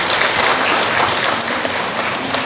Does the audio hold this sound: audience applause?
yes